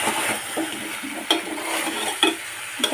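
Fish and tomatoes get stirred in a cooking pan, a soft continuous sizzle broken by a few sharp clinks of a utensil against the metal, close up with no talking.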